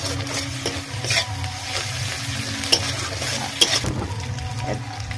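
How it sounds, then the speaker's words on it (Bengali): Ginger paste frying in a pan for a meat and taro curry, with loud close sizzling and crackling, broken by spoon scrapes and a couple of sharp clinks against the pan. "আদা বাটাটা একটু ভাজবো"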